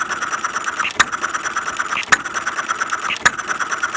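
A half-scale Domestic side shaft hit and miss engine runs slowly outdoors in the cold, with three sharp firing pops spaced about a second apart over a steady mechanical clatter.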